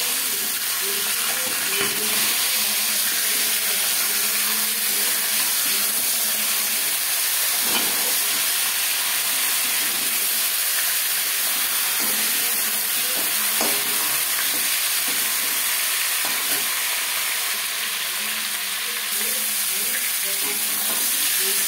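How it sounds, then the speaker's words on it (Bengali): Steady, loud sizzling of a fish head frying in hot oil, with occasional scraping and stirring clicks throughout. "মাছের মাথা একটা সাইড ভাজা হয়ে গেলে অপর সাইডটা উল্টে দেবো।"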